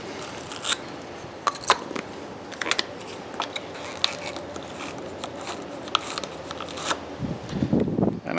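A wire terminal brush is twisted against the battery terminals of a 2015–2020 Ford F-150, giving close, intermittent scratchy clicks and crackles over a faint background hum.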